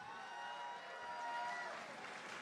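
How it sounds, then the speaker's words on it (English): A crowd applauds and cheers for both fighters in the cage at a Prospect Fighting Championship MMA event in Toronto, with a steady, dense wash of clapping and crowd noise. "Ladies and gentlemen, a big round of applause, please, for both of the fighters in this cage."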